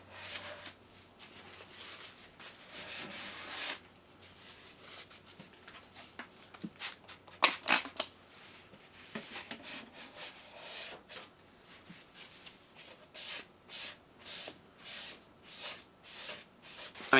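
Soft rubbing and wiping strokes of a cloth clearing brown cleaning compound off a car headlight lens during restoration, faint and close, growing into a steady rhythm of swipes toward the end.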